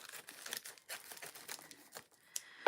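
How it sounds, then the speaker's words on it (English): Plastic packaging crinkles and tears in a steady run of crisp rustles while a package is opened with scissors, close and moderately loud, ending with a sharp snip or click. "I need to get scissors to open up the package."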